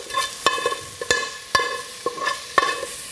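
Bacon and pre-soaked lentils brown in a hot pan with a steady sizzle, punctuated by regular sharp clacks and scrapes of a utensil stirring, close and fairly loud, with no speech.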